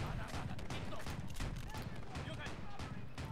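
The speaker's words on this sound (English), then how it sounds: "Our AA gun's going crazy." Anti-aircraft gun in the World War II game Men of War: Assault Squad 2, at the Peleliu airfield defense, firing in a dense, continuous barrage of rapid bursts, loud and unbroken, mixed with other battle noise.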